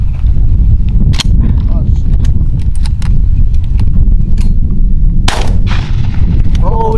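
Shotgun blasts ring out during a mourning dove hunt outdoors, a few sharp loud reports over heavy wind rumble, with people talking and laughing nearby.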